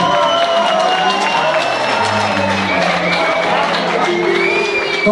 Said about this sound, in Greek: Όποιος έχει καψουρευτεί, ας χειροκροτήσει παρακαλώ